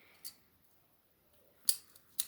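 A few sharp scissor snips cutting twine, close and crisp, isolated against near silence: one early, then a quick cluster of cuts toward the end.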